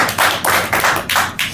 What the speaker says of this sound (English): Let's again give a round of applause to Saranya.